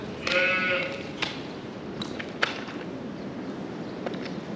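A sheep bleats loudly near the start inside a shed, followed by quieter shuffling, clicks and faint bleats from the housed flock.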